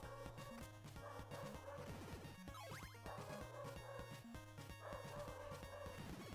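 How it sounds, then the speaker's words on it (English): A dog barks repeatedly amid loud, busy background noise, the barks partly buried in a cluttered, constant din. "In case you can't hear Whiskey barking."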